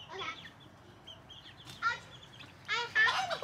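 Homestead backyard chickens, with a rooster among them, give several short, scattered clucks and squawks close by, with quiet pauses between bursts and a livelier cluster at the end.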